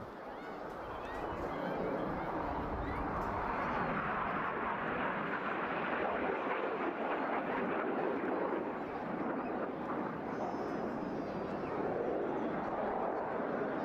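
Red Arrows jets flying the Cyclone manoeuvre at the Wales Airshow 2024, a broad sustained roar of jet engines swelling and holding for over ten seconds, heard at a distance.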